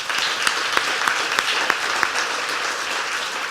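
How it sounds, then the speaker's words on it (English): An audience at an arts and culture awards ceremony gives a round of applause for young community members, dense, even clapping filling the room, with a few sharper claps standing out near the front. "let's take a minute just to give a round of applause for all the young people in our community"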